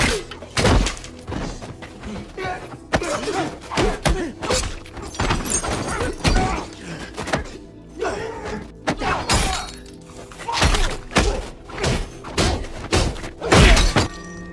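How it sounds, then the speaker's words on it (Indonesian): Action-film fight effects pile up in rapid succession: heavy thuds, punches, crashes and shattering glass, loud and close with dramatic bursts and short gaps between blows. "terjadilah pertarungan"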